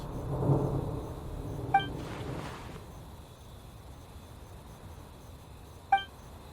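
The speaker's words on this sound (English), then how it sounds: "what was with that thunder just now? It came out of nowhere and it's not even raining." Thunder in Genshin Impact rolls in as a soft low rumble at the start, followed by a brief swelling burst, with two bright chime-like tones ringing out over otherwise quiet ambience.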